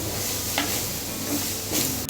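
Cabbage poriyal being stirred in a pan after coriander goes in, a steady soft scraping and light sizzle with a couple of brief louder scrapes, no voices.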